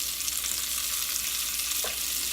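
Kielbasa sausage browning in a pan, giving a steady, even sizzle throughout with no talking.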